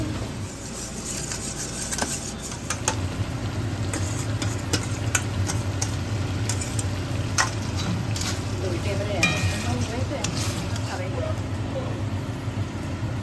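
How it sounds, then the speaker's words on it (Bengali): Pointed gourd sizzles and fries in a pan tempered with black cumin, a steady hiss with occasional stirring scrapes while people talk over it. "এবার এটা ভালো করে কষে কষে আসলে তারপরে জল দেবো"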